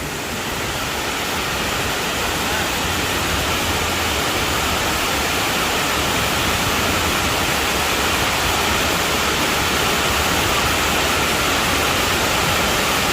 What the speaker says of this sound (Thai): เป็นแหล่งแบบมีน้ำตกไหลอย่างนี้ก็สวยดีนะ